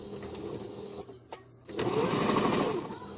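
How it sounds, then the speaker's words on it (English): A sewing machine back-stitches a pillow seam, a steady mechanical whir that stops briefly and then resumes louder and faster, close up with no talking. "I'm gonna back stitch just in case."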